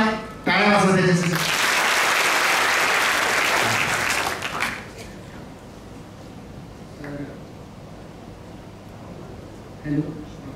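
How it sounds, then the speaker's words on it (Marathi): Audience applause at a school induction programme for entry-level class 11 students, a loud burst of clapping lasting about four seconds that fades into quieter room noise, with brief talk afterward. "टाळ्या वाजवा त्याच्यासाठी."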